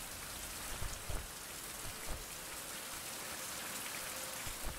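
Steady rain pours in the survival video game Survival: Fountain of Youth, a dense continuous hiss of falling water with a few louder drops and patters standing out, no talk over it.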